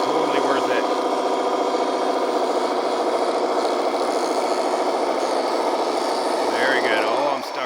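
Close, steady motor whine of an RC tracked vehicle running on expensive aftermarket tracks, with continuous rasping, rubbing track clatter throughout and a voice briefly at the start and end.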